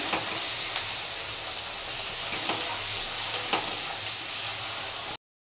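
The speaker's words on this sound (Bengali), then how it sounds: "জিরে বাটাটা দিয়ে আরেকটু কষাতে হবে।" Cumin paste and spice masala sizzle steadily in a hot pan with onions, a dense continuous frying hiss with faint stirring scrapes, close and alone with no talk.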